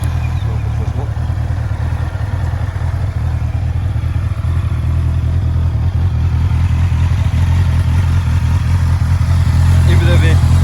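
A 2021 Honda CB650R motorcycle engine runs as a steady, loud low rumble throughout, close by, with a mechanical clatter over it and no clear cranking or catch point.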